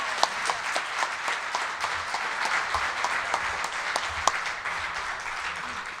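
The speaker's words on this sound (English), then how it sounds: "Let's give them another big round of applause." Warm applause from members at a Rotary club meeting, a mid-sized room of steady clapping with individual sharp claps standing out, continuing evenly for several seconds with no talking.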